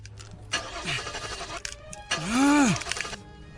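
A car engine fails to start, cranking in two strained bursts, each a rising and falling whine with a rough rattle, separated by a short pause.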